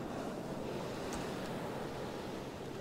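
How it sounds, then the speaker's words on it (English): In the exploration game 0°N0°W, open ocean surrounds the player with a steady, dense wash of rolling waves and wind, continuous and enveloping at an even loudness, with no voices. "It's like ocean is everywhere, but not like I'm under the water, but it's like I'm slightly above water everywhere I go."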